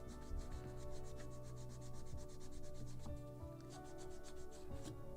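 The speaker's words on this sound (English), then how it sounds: "A little more of this sandpaper." Sandpaper rubs back and forth on a wooden knee for a ship model of the 1776 gunboat Philadelphia, a quiet, close, steady rhythmic scratching with no talk.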